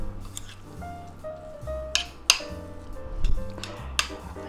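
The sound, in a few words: mixing rice with chicken and vegetables in a bowl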